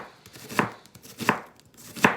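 Onions are chopped with a small sharp knife on a board: three crisp, evenly spaced cuts, close and clear with no talking.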